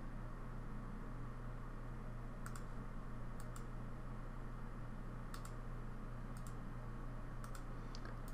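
Sharp mouse clicks while working in SketchUp, modeling a city from reference photos, come in small clusters of two or three over a steady background hum, close and fairly light, with no talking.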